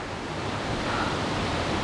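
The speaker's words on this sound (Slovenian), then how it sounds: "Tole je drugače Gregorčičev slap." Broadband roar of rushing water at Gregorčič waterfall (Gregorčičev slap), steady and loud throughout with no talking.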